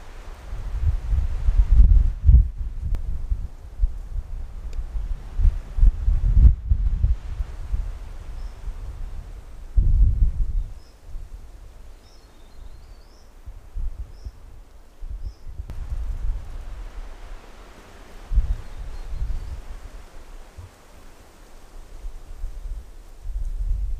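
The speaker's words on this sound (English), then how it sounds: "Be even better if there wasn't any wind" Wind gusts across an open mountain top, rumbling low and buffeting the microphone in uneven surges that rise and fade over a long stretch, with faint rustling in between.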